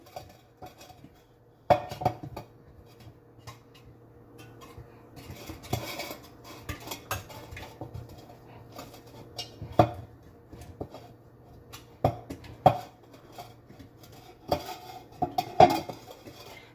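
A cake mold is greased all over with oil before baking, giving sparse light scrapes and metallic clinks scattered across the quiet stretch, close up with no voices.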